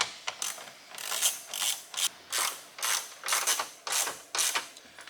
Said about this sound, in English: Go ahead and take our 3 screws out.